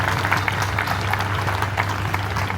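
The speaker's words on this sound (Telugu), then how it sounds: "ఒక్కసారి అందరం చప్పట్లు కొడుతూ ఆ దైవజనుడికి నివాళిని అర్పిద్దాం." A church gathering's audience claps together in tribute, a dense, steady patter of many hands filling the whole stretch over a low hum.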